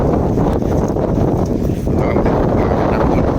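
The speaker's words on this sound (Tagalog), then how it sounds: "May hangin." Steady wind roars and buffets the microphone outdoors near a feeding spot for dogs, a continuous low rumble with no breaks.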